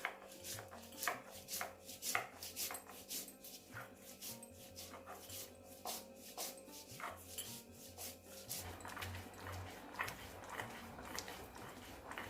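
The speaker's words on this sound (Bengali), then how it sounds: "পোস্ত এই সর্ষে পোস্ত একসঙ্গে বেটে নিচ্ছি আমি" Mustard seeds and poppy seeds being ground together into a paste for a Bengali pumpkin fry, a steady rhythmic rubbing and scraping of stone with soft repeated knocks, close and moderately quiet, no voices.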